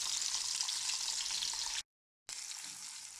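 Bacon strips fry in oil in a pan with a bright, continuous close-up sizzle, broken by a brief total silence before the crackling resumes.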